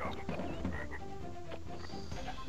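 Frogs croak in a stretch of Crash Bandicoot 3: Warped, a run of low, repeated bursts layered over busy game music and effects, steady and fairly loud throughout.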